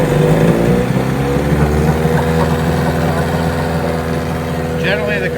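A 1990 Evinrude 15hp outboard motor running on test, a loud, close, steady droning hum with a constant pitch that holds throughout.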